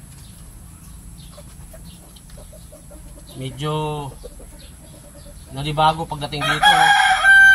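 A Gilmore bloodline gamefowl rooster, unsettled in new surroundings, lets out two drawn-out clucking, crow-like calls close by, with someone speaking around them.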